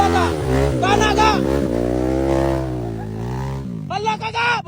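An enduro motorcycle engine revs loudly and close, holding a high rising drone before a burst of sharp throttle blips at the end, with people talking over the noise.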